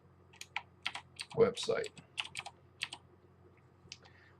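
Keys tapped on a computer keyboard while entering HTML code, a quick irregular run of close, light clicks with a brief spoken word in the middle.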